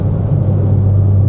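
Steady low rumble of a car with a single turbo being driven, heard from inside the cabin, a constant loud engine drone with road noise and no change in pace.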